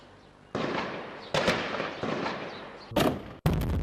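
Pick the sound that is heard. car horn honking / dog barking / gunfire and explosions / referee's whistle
gunfire and explosions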